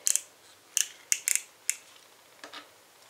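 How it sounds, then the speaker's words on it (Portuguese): A sharp craft knife slices through card on a numbered cutting mat in crisp, quick bursts, with a few softer scrapes near the end. The cuts are close and fairly quiet, with no voices. "eu faço o meu corte"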